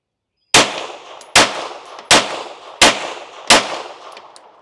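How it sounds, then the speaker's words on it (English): A compact pistol firing 165 grain reloaded bullets, five sharp, loud, close shots at a steady pace of roughly one every 0.75 seconds, each followed by a short ringing decay, with no talk. "let's take a couple of shots"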